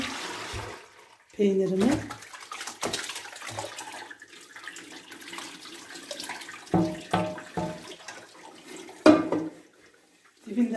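Boiled homemade cheese curds and whey being poured through a strainer, with intermittent splashing and liquid pours, some louder gushes, under brief talk from a woman.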